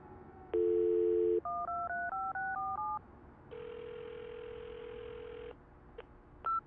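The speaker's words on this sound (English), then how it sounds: "Let's try redialing it." Phone number redialed in the CSI: Dark Motives video game: a steady tone, then a run of about six distinct keypad DTMF beeps, a longer tone and two short blips, all clear and close with no talk.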